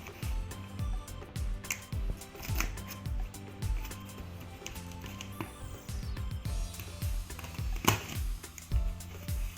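Crisp, close scraping and snapping bursts come as a big knife slices through the tape and cardboard of a phone shipping box, uneven cuts with short pauses and quiet between.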